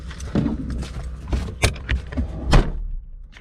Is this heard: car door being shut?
yes